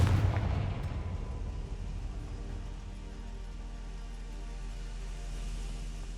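A Confringo fire spell in the video game Hogwarts Legacy goes off as one loud, deep boom at the start, then its low rumble slowly decays into a sustained hum.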